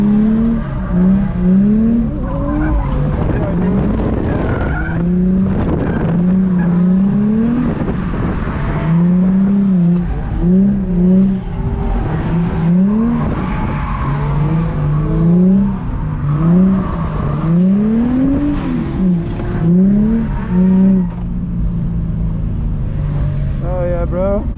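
An Infiniti G35 sedan drifting on a slippery practice track, its engine revving hard in repeated rising and falling surges, loud and close throughout with a continuous roar underneath.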